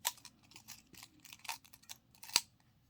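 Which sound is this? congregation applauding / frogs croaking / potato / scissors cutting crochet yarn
scissors cutting crochet yarn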